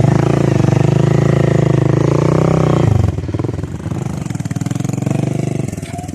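A motorcycle with a mechanical issue runs on a rough jungle trail, its engine a loud steady drone that drops to a lower, choppier idle partway through, with no talking.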